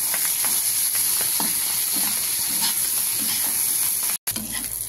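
Ghetkol stalks fry loudly in hot oil with turmeric and salt, a dense, continuous close sizzle with crackling and scraping stirring throughout and a brief dropout near the end.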